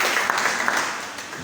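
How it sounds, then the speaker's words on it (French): A church congregation applauds together, a brief dense burst of many hands clapping that fades slightly toward the end, with faint voices underneath. "Est-ce qu'on peut acclamer le Seigneur pour la vie de l'homme de Dieu, Carlo et Germe?"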